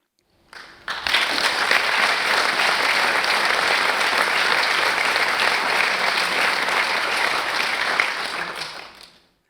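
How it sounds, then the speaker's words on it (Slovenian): An audience at a celebration of a diocese's tenth anniversary in Murska Sobota bursts into sustained applause, dense clapping that swells in quickly, holds evenly for several seconds and tapers off at the end. "In če smo izkazali hvaležnost tudi z aplavzom vsem"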